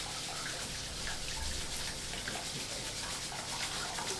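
Tap water runs into a pan while rice is rinsed and stirred by hand, giving a steady, close hiss of splashing water with faint swishing from the moving grains.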